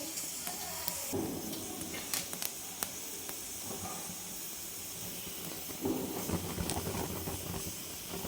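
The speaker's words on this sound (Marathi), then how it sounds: "हे गॅसवरती आपण हे दोन मिडियम आकाराचे कांदे भाजून घे घेतो आणि हे खोबऱ्याचा एक तुकडा आहे" Two medium onions and a piece of dried coconut roasting directly over a gas stove flame, giving a steady low hiss with faint crackles and small pops throughout, no voices.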